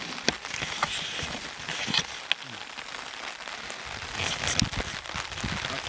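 Steady rain patters on a tarp sheltering an outdoor camp where coffee and moose steaks are cooking, with a continuous hiss and occasional louder drips and knocks close by.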